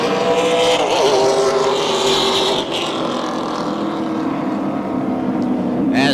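Super late model race cars circling in a pack behind a Ford pace vehicle at an oval track, a loud sustained engine drone with a rising and falling whine, and an announcer talking over it.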